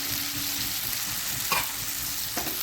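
Pressure-cooked potatoes frying in oil and spice paste over low heat, a steady close sizzle broken by two brief scrapes of a stirring spoon.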